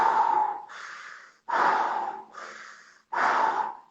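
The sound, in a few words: connected breathing technique demonstrated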